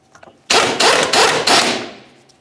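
An impact wrench on an 18mm-headed mounting bolt of the rear lateral link on a 2009-2019 Ford Flex runs in three or four loud, close bursts, then trails off, with no talking.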